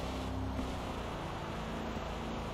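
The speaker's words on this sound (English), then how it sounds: "it definitely sounds like a diesel" Diesel car engine idling in the Estate Agent Simulator video game, a steady low rumbling drone that holds without a break, with no talk.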